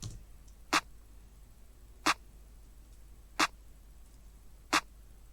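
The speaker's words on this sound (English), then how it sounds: "it's like the most basic clap pattern that you can imagine." Four sharp, dry claps land at slow, evenly spaced intervals, each one isolated against near silence in a simple repeating drum pattern.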